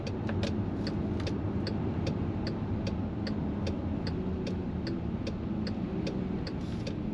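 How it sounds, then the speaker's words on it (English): Volkswagen Amarok V6 pickup towing a trailer, heard from inside as a steady engine drone with a regular ticking like a turn signal clicking throughout, no talk. "We're turning in on third gear with the trailer behind us."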